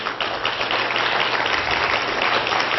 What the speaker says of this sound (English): A big round of applause for having us here tonight.